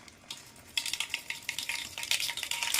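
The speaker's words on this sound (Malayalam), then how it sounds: "കടുക് ഒന്ന് പൊട്ടിക്കുന്നുണ്ട്" Mustard seeds spluttering in hot oil for a chicken curry: a busy run of sharp crackles and pops that starts quietly, then swells into dense sizzling bursts, close and alone with no talking.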